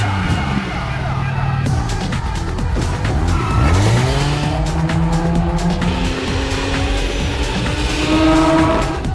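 Street racing in the PS2 game Juiced: engines rise and fall in pitch as cars drift, with loud, sustained tire squeals and skids layered over continuous, close engine noise.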